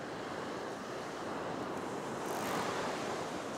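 Waves break and wash onto a beach in winter, a continuous soft roar of surf with some wind noise across the microphone, moderately distant and unbroken by speech.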